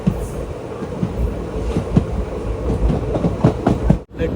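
The Palakkad to Tiruchendur Express runs through Tiruppur district towards Udumalaipettai, heard from inside the unreserved coach as a close, loud rolling rumble with rhythmic clickety-clack beats of wheels over rail joints.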